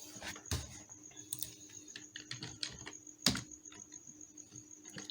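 A short run of keystrokes on a computer keyboard as a git command is typed, quiet close clicks in an irregular rhythm with one heavier key press near the end.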